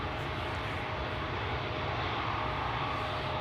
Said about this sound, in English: LL flight 238 to Tel Aviv, that's the 737-800, 26 years old already